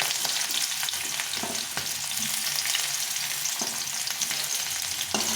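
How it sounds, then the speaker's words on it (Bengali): Onion frying in white oil in a hot kadai, a continuous close hiss with occasional sharp clicks of the spoon, no voices. "এখানে সাদা তেল দিয়ে দিয়েছি প্রথমে পেঁয়াজটাকে ভেজে নেব"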